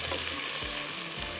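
Onions frying with whole spices in a pan for beef khara masala, giving a loud, steady close-up sizzle with occasional stirring scrapes and no talk.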